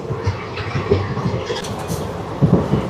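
Puri Tirupati Express passenger train (17479) running, a steady rumble and rattle heard from on board, with soft rhythmic knocks from the wheels.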